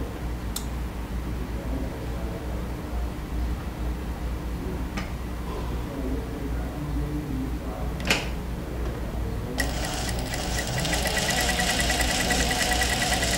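A sewing machine stitches patchwork fabric for a French braid design: a steady mechanical hum with faint ticking, swelling into a louder, busier buzzing run near the end.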